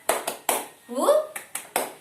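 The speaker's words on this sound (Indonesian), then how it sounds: "Oke, tepuk semangat." Schoolchildren in a classroom beat out a rhythmic spirit clap, a handful of sharp, evenly spaced claps with a short pause mid-pattern, voices joining in the chant.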